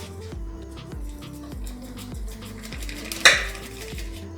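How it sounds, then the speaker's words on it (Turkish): Whisk beating milk, sugar, vanilla sugar and baking powder in a bowl for waffle batter, a rapid rhythmic clatter of metal against the dish, close and steady, with one sharper clink near the end. "Şimdi bunları güzelce çırpıyorum."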